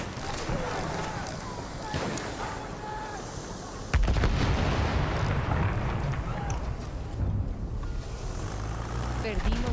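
Heavy bombardment explosions in the video game Battlefield 1: a dense wall of deep booms and rumbling blasts, which jumps sharply louder midway and then keeps pounding steadily, with faint voices at times.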